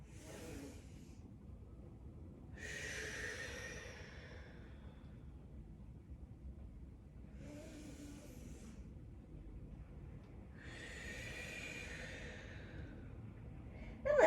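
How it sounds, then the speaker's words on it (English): Slow, deep, controlled breaths during a yoga session, four long airy exhales spaced evenly apart over a steady low background hum, close and fairly quiet. "do 2 more slow breaths here"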